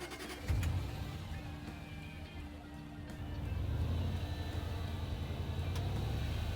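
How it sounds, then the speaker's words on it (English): A supercharged Range Rover Sport engine turns over and settles into a steady, low idle, heard fairly close with no talking. "Now I'm going to start up the car, let it idle for about 5 minutes"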